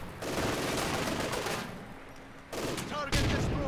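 Bursts of light machine gun fire crackle in the World War II strategy game Company of Heroes 2, with rapid rattling volleys, a brief lull, then renewed firing and sharp impacts.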